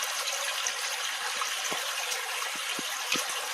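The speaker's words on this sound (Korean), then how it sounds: "이 계곡 물소리 들으며 마음을 정리합니다" A valley stream runs with a continuous bright rushing of water, near and steady, with occasional small splashes and gurgles in the flow.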